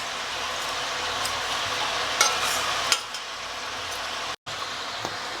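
Steady sizzling of bone-in chicken frying in a hot pan as its water cooks off, with a couple of sharp clinks of a utensil and a brief dropout near the end.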